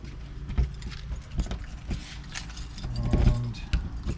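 Square black keys jangling and clicking as they unlock an external storage box on a Toyota Land Cruiser BJ45, several sharp metallic clinks and rattles close by over a faint background.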